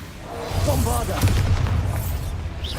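A Bombarda blasting spell from Hogwarts Legacy bursts into a low, booming explosion under a voice, with a rumbling blast swelling midway through.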